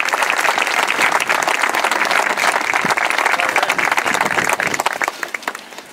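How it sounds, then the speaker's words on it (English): Dense audience applause fills a concert gathering, loud and continuous for several seconds before thinning slightly at the end, with no one speaking over it. "I want to give a big round of applause to the guy who put the concert together"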